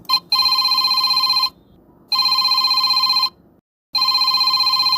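A telephone bell rings in three long bursts with short silent gaps between them, loud and close, with no voices over it.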